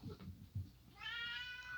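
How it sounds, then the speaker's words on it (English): A pet cat lets out a single close, clear meow near the end, preceded by a couple of soft low thumps, with no talking heard. "sorry, that was my cat"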